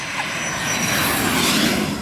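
Pilatus PC-24 business jet engine, a steady broad roar with a hissing whine on top, loud and unbroken with no voices.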